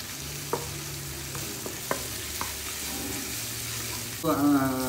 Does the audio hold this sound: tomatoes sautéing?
yes